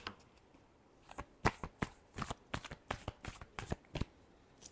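Tarot cards shuffled by hand in quick, irregular riffles and taps, quiet and close, with soft clicks and flutters following each other in bunches.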